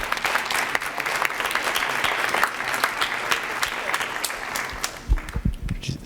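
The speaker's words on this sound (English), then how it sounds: "One more round of applause." Audience applause at a high school orchestra concert, a steady, dense wash of clapping sustained for several seconds at moderate loudness, with a few sharper claps and low thumps toward the end.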